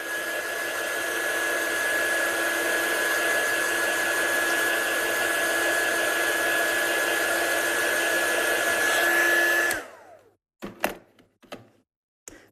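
A hair dryer blows steadily and close for about ten seconds over layered watercolour on a card, with a thin whine over broad rushing air, then cuts off, followed by a few soft knocks.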